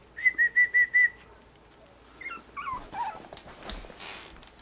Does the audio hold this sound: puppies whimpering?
yes